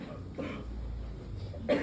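Two short coughs, one near the start and another near the end, with a quiet room in between and no talking.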